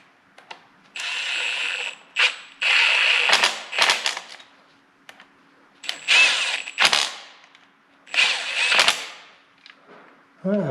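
A hand ratchet tightening bolts during assembly of a 1200hp LQ4 engine, clicking in repeated close bursts with short pauses between strokes.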